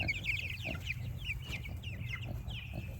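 Several pastured chickens cluck softly and intermittently at a moderate distance while foraging outdoors, over a low background hum.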